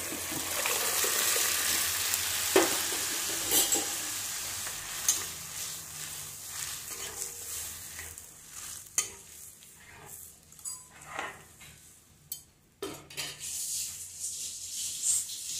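Boiled mochai beans and ground theeyal paste fry and sizzle softly in a pan, with intermittent scraping stirs and clinks of a spoon against the metal.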